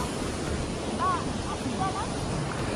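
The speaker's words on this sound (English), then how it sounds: "this waterfall is very amazing" A waterfall on a trip through Wayanad and Karnataka, India, gives a steady, broad rush of falling water. It runs continuously through the clip, with a few faint chirps over it.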